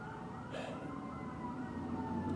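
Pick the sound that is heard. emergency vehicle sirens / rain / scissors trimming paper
emergency vehicle sirens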